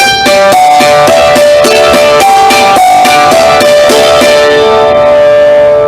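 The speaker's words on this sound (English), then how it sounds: "we're going to drone while we play that melody with our right hand" On a hammered dulcimer, a quick melody of many crisp struck notes runs over a sustained D drone that rings continuously underneath, loud, close and unaccompanied by speech.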